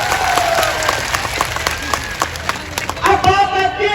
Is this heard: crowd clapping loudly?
yes